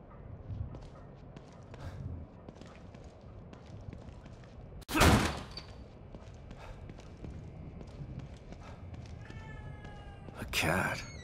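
A cat in The Evil Within 2 horror game lets out a single short, fairly clear meow near the end, amid quiet ambient rumble and a couple of sharp thuds.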